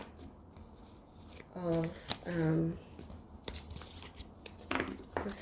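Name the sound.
shuffling heart-shaped cards for a 3-card reading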